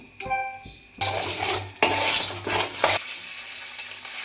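Eggs hit hot oil seasoned with salt, chili and turmeric, bursting into a loud, steady sizzle after a brief clink, then easing slightly as frying continues.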